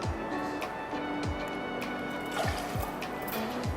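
Fresh coconut water poured into a cocktail shaker for a coconut and cacao rum drink, a steady liquid trickle with soft splashy glugs running throughout, close and moderately loud.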